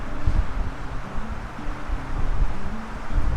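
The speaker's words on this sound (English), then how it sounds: "Very windy though." Strong wind at a desert viewpoint buffets the microphone with a steady low roar and rumbling gusts, and no voices are heard.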